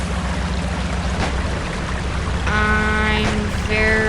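An off-road truck wades through a river in the video game Spintires MudRunner, a constant engine rumble mixed with rushing, splashing water, joined midway by rising revving tones.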